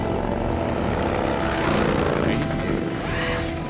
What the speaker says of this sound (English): what's a helicopter doing here?